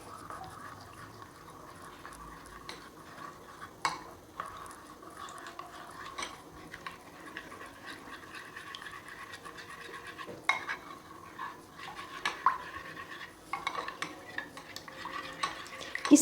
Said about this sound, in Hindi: और अच्छी तरह से मिक्स कर लूँगी इसको।